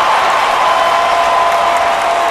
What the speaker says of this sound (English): The crowd erupts here at RFK Memorial Stadium